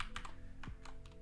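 A few quick keystrokes tapped on a computer keyboard, close and fairly quiet, with no talking.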